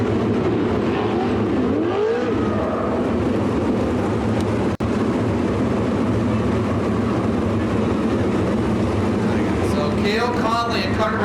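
410 sprint cars race around Attica Raceway Park with a loud, continuous engine roar that rises and falls as they pass. A track announcer talks over the noise, and there is one sharp click partway through.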